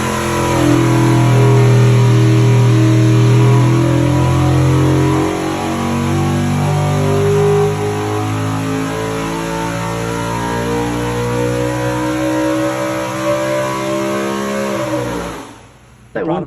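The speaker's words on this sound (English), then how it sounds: "So this is an authentic Ford C3 engine from that period." A 750-horsepower Ford C3 V8 in a period NASCAR race car revs loudly and steadily, its deep harmonic roar rising and falling over about fifteen seconds before cutting off abruptly near the end.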